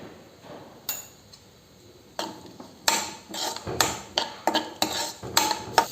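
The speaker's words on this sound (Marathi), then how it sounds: "कांदा छान आपल्याला ब्राऊन होईपर्यंत परतून घ्यायचा आहे" Onion sautéing in a pan with salt, a low sizzle under repeated scraping and clinking strokes of a spatula against the pan, growing busier and more rhythmic toward the end.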